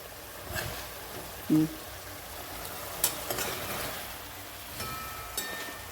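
Mutton frying in a pan at an outdoor cooking setup, a steady broadband sizzle with occasional stirring scrapes and clinks, continuous and moderately close.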